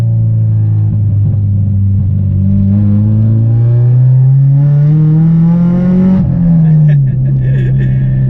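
A stripped-out, straight-piped Honda Civic EP3 Type R revs and rev-matches through downshifts, its loud rasping exhaust note rising and falling in steady sweeps from inside the car.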